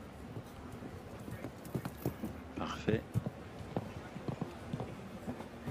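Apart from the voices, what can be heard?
horse hooves at show jumping competition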